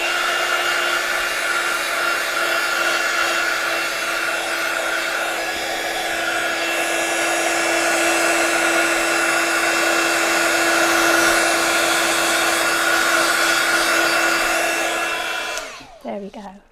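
A heat gun blows hot air to dry fresh stencilling, a loud, steady whine that runs unbroken for about fifteen seconds before cutting off with a few clicks.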